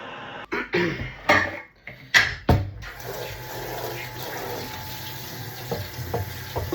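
Dishes washed under a running tap, with water splashing and clattering in several bursts early on, then a steadier flow of water for the rest of the clip, close by and with no talk.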